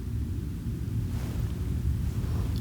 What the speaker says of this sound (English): that's a plane going over